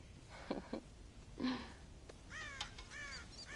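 Crows caw repeatedly in the Western video game Red Dead Redemption, loud harsh calls near a farm silo, a few scattered at first, then a denser overlapping flurry toward the end over a faint background hiss.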